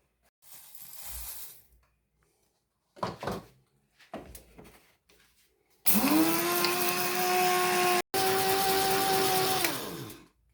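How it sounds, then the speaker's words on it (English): An electric coffee grinder whirs loudly as it grinds toilet paper into fine dust, running about four seconds, pausing briefly, then spinning down, preceded by scattered handling clatter and shaking. "And now I will use coffee grinder to grind it into fine dust."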